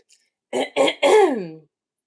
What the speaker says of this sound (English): I always had to clear my throat.